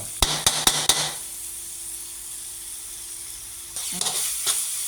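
Sugar melting in a hot pan gives a steady, close sizzle and hiss, opened by a few quick knocks of a utensil on the pan and closed by a few more taps over the frying.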